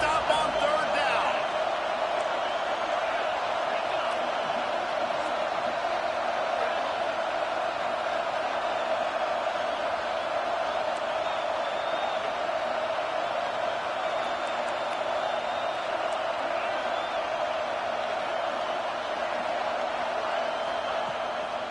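A stadium crowd in the college football video game NCAA 26 keeps up a steady, dense roar of noise throughout, with commentary voices talking over it.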